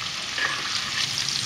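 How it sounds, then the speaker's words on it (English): Coffee-rubbed steaks sizzle steadily in a hot pan, a dense, close, continuous frying hiss with no pauses for its full length and no talking. "Cooking these steaks."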